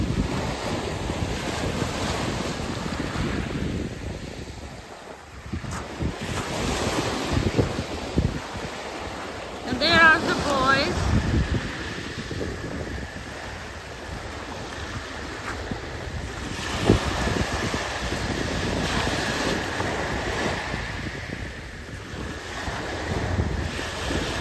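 Atlantic Ocean surf rolls and washes steadily along the shore while gusty wind buffets the microphone, a continuous broad roar with a few louder swells and no voices.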